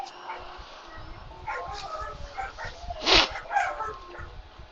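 Several dogs whimper and yip under a steady murmur of background noise, with one louder bark rising briefly near the middle; the calls come and go.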